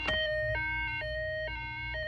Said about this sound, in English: if you slide it again, you get a fire truck sound